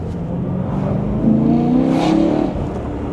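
A BMW E9X M3 V8 with an Eventuri intake revs hard, rising into a loud, rasping climb that peaks and then eases back, heard close up from inside the car with no talk.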